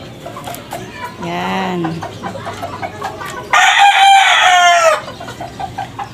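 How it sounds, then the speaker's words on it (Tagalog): Chickens in a small backyard coop, clucking and crowing in bursts, including a long, loud crow near the end, with a person talking quietly between the calls. "Mga alaga namin yan dito sa aming munting manukan."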